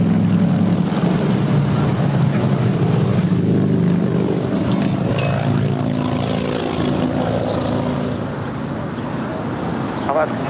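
A Gulfstream jet takes off from runway 25 left at LAX, its engine roar steady and fairly loud, slowly fading toward the end, while radio voices talk over it.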